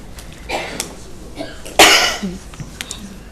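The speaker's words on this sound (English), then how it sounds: "My coughing has started other coughing," A sharp, loud cough stands out among quieter coughs and shuffling in a city council meeting room.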